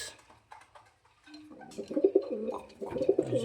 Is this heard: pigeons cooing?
yes